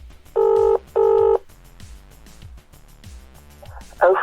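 A telephone dials out a classified-advert number: two long steady dialing tones, then a rhythmic series of soft clicking pulses, ending with a burst of louder ringing at the close.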